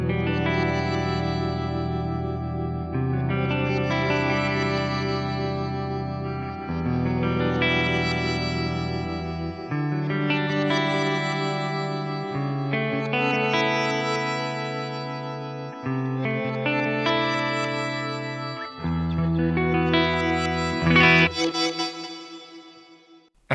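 An electric guitar through a Fractal FM3 with a pitch crystals effect and 40% reverb mix plays a slow sequence of sustained chords, each shimmering and swelling with bright, echoing high overtones before the final chord rings out and fades.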